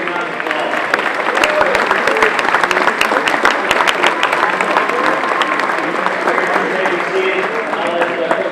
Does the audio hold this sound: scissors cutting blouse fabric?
no